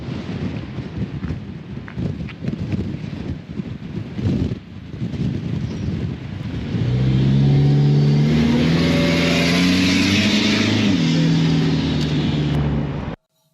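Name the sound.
car driving on a testing track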